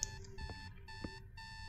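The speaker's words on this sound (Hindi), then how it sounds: "एक अलार्म बज रहा है" An alarm clock in a horror video game rings continuously with steady electronic pulsing tones, fairly loud and close, with no talk over it.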